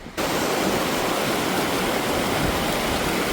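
Steady, full rushing of a stream flowing in the Grand Canyon, continuous and close with no pauses or voices.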